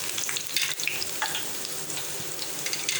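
Curry leaves fry in hot oil in a pan, a close crackling sizzle dotted with sharp pops and stirring scrapes, steady throughout with no voices.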